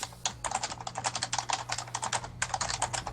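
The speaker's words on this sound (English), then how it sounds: "Eric, your typing is a bit loud." Rapid clacking of a computer keyboard, loud and close, in bursts of fast keystrokes with a brief pause near the middle, over a steady low hum, during online play of the game Wargame: Red Dragon.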